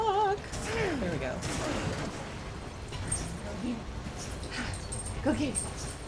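A dog gives high, thin whimpers and squeaky whines while playing with a toy indoors, a few short wavering cries scattered over a steady background, with a person talking.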